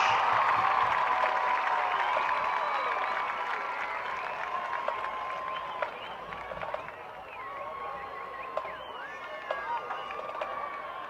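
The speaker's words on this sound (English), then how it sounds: "Let's give both the bands a big round of applause" An audience at a high school football game between Santa Paula and Fillmore applauds the bands, a broad sustained wash of clapping and cheering that slowly fades, with voices talking over it.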